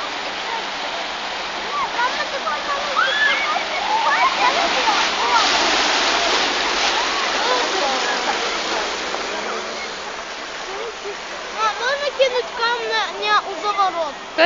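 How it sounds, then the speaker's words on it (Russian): Water flows and splashes steadily along a street, a continuous rushing wash with brighter splashy bursts near the end, while people talk over it. "та я вода ж повинна кудись витікати"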